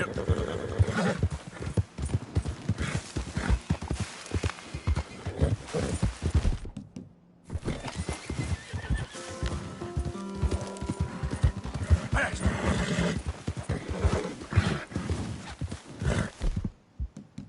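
Hooves of a galloping horse in a video game, clattering in a rapid, busy rhythm, with whinnies and a voice speaking over it, broken by a brief silent gap midway.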